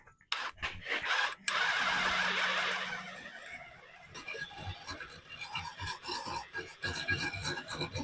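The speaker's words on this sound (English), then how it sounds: "we're drilling out the holes in the stiffener plate so I can weld them spacers on them" A drill bores holes through a steel stiffener plate in a workshop, a loud grinding, rasping run of about two seconds, followed by quieter clattering and handling noises.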